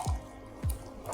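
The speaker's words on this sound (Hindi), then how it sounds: "बाउल में इसको डाल देंगे और साथ ही डालेंगे फ्रेश जूस" Fresh orange juice goes into a bowl for an orange mousse, heard as two soft, close liquid plops about half a second apart against a quiet background.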